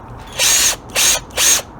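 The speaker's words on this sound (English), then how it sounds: "You can see I'm just drilling." Three short whirring bursts of a power drill spinning the Picco .27 engine of an HPI Savage RC truck with a broken one-way bearing, each about a quarter second, separated by brief pauses, close and loud.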